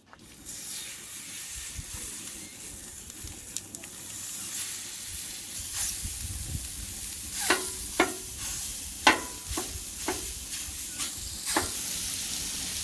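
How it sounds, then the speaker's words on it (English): Two pounds of Jones breakfast sausage frying on a hot griddle, with steady sizzling hiss and a run of sharp scraping and stirring strokes building toward the end, no talk. "next we're going to do 2 pounds of Jones breakfast sausage, or any breakfast sausage of your choice. And we're going to put that on the griddle, cook it up"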